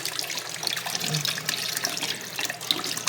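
Water runs steadily from a newly repaired faucet, a continuous close splashing stream with no one talking.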